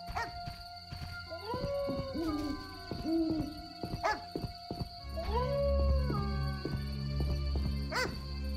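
A dog howls and yips in The Witcher, its drawn-out wavering cries rising and falling over steady game music and ambient tones, with a low rumble joining partway through.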